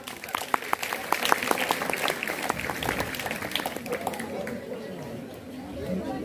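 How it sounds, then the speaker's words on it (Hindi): School audience at an Independence Day prize-giving applauding three top-scoring girls, crisp hand claps and chatter that fade out toward the end, leaving murmuring voices. "तीनों लड़कियों के लिए जोरदार तालियां"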